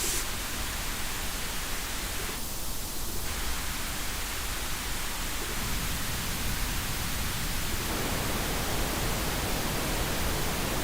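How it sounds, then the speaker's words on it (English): Steady broadband hiss of pink noise runs unbroken throughout, loud and even, with faint tonal shifts drifting in and out partway through. "So listen very carefully to the pink noise"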